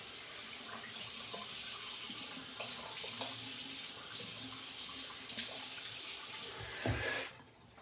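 Steady running tap water splashing into a sink while a straight razor is wet before shaving, a continuous moderate hiss with faint clinks, cut off abruptly near the end.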